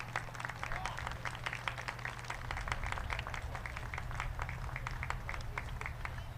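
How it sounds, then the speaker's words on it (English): Steady applause from a crowd at a Morristown Beard School football ceremony honoring the class of 2024, continuous dense clapping at a moderate distance with a low hum underneath. "Let's give them one round of applause."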